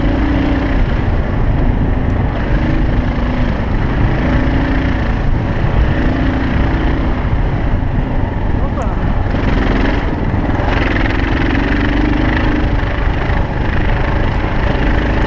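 A motorcycle engine droning steadily while climbing a long uphill road, loud and constant with heavy wind rush over it and a voice talking throughout.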